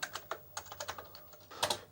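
Typing on an Amstrad computer keyboard: a quick run of close, crisp key clicks in an uneven rhythm, ending in a slightly louder cluster of strokes.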